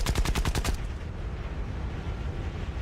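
An enemy Japanese plane fires its guns at an F4U-1A Corsair during an Iwo Jima flight-game battle, a quick burst of about eight sharp shots, loud and close, followed by a steady engine and wind drone.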